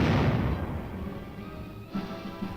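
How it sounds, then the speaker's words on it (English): Tank gun bombardment in war footage: a heavy, loud blast that decays into a rumbling roar, followed by a second, fainter thump near the end. "In constant communication with the Fire Control Center, the tanks continue their heavy bombardment."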